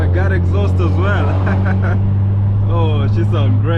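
A turbocharged Mercedes C250 drives with a steady, loud low exhaust drone throughout, while people talk over it.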